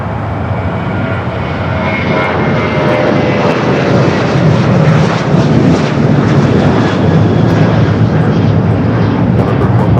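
A Singapore Airlines heavy jet airliner takes off from runway 25 right at LAX, its engines producing a loud, steady, broadband roar that holds for the whole stretch without a break.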